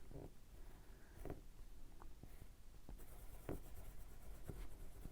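A Crayola Swirls colored pencil scratches on paper in short, close strokes, some sharper scrapes spaced irregularly over a soft, quiet background.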